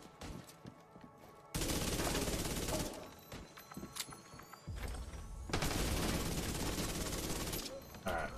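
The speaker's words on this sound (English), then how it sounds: "I guess it is a submachine gun" Bursts of submachine gun fire ring out in the shooter game The Division 2, dense rapid volleys that start abruptly and cut off, loud and close, separated by quieter stretches of background game noise.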